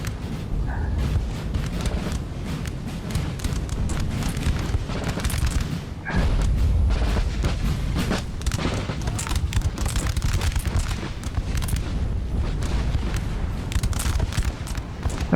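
Napoleon Total War battle with musket volleys and artillery booming, a continuous dense crackle of gunfire punctuated by heavy low blasts, loud and close throughout.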